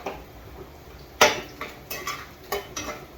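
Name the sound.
coconut frying in oil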